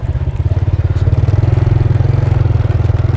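A motorcycle climbs uphill on a mountain road in Pozorrubio, Pangasinan, its engine loud and close with a fast, rhythmic thumping pulse held steady under load, and no talk.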